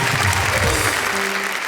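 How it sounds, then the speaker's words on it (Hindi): A short, dense burst of audience clapping for a poet at a Hindi shayari recital, loud and even throughout. "तो भाई जरा अपरा मेहता के लिए तालियां हो जाए भाई,"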